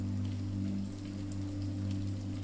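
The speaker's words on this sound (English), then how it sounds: "Your journey upwards is punctuated by the rhythmic splats of raindrops on the windows." Rain falls steadily on the windows of a bell tower on a stormy night, a soft continuous patter of drops over a low, constant hum.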